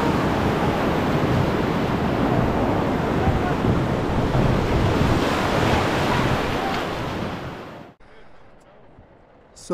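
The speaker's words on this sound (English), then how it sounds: "beautiful stretch of river right here just south of Merlin, Oregon" Loud, constant roar of Rogue River rapids just south of Merlin, Oregon, with wind buffeting the microphone, cutting abruptly to a much quieter background near the end.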